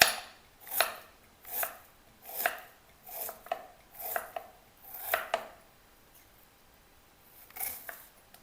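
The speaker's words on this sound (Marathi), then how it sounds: "बारीक बारीक कापायचं कांद्याला।" Knife chopping an onion finely, a close series of crisp, evenly spaced strokes on a board with brief pauses, ending in a few softer cuts; no talking.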